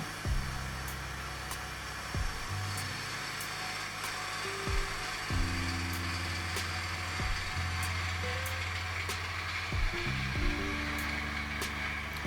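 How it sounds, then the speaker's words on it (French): A sphere spins on a wood lathe during a finishing pass with a profiling gouge, giving a steady low motor drone broken by repeated shifting mechanical tones and clicks as the cut changes, close and unbroken by speech. "utiliser sa gouge à profiler pour une passe de finition."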